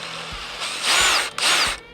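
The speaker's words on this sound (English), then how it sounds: "I'll just drill out all of these. And to do that, I'm gonna use a cobalt bit." A power drill fitted with a cobalt bit bores out holes on a 1967 Ford Mustang fastback, whining loud in two sustained bursts with a short pause between, close by and without talk.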